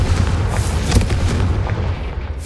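A Confringo blast spell cast in the Hogwarts Legacy video game booms with a sharp burst near the one-second mark, set over a continuous low rumble of battle effects.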